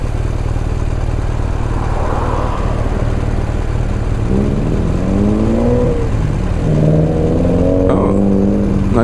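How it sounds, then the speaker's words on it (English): A Subaru BRZ's exhaust rumbles steadily nearby, not too loud, its engine note swelling and rising as the car accelerates past. "Nice little exhaust."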